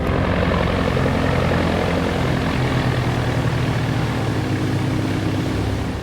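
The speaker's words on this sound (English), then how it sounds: "Amin returned on a Royal Air Force seaplane" A Royal Air Force seaplane from 1953 drones steadily with a loud, continuous propeller-engine roar that stays even throughout, with no voices over it.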